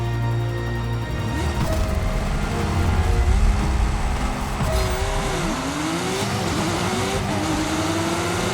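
Race car engines roar in the racing video game Clutch, a continuous loud drone with shifting, rising and falling whines as cars rev and accelerate, plus brief tire squeals, with no talk over it.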